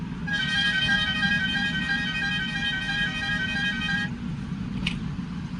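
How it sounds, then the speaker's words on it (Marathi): A newly fitted aftermarket Stebel horn on a motorbike blares one long, loud, steady high-pitched honk of about four seconds, ending abruptly, with road and engine rumble underneath throughout. "कसा वाजतोय हॉर्न बघा"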